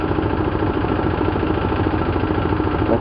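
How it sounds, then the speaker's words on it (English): A water pump drawing water from a borehole drones with a steady, throbbing mechanical hum in the bush. The continuous mid-low engine-like rumble carries loud and unbroken. "That is the pump. That is pumping water from a borehole."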